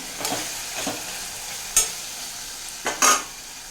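Spoon stirs turmeric and curry leaves into a sizzling brinjal curry base in a pressure cooker, with a low steady frying hiss broken by a few sharp scrapes and clinks, close by with no talking.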